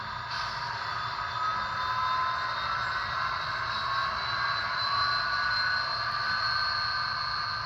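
A Rapido VIA F40PH-2D model diesel locomotive notched up to full RPM with head-end power running, giving a loud, steady engine drone with a bright whine that holds for the whole stretch.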